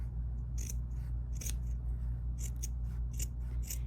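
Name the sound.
embroidery scissors cutting fabric near stitching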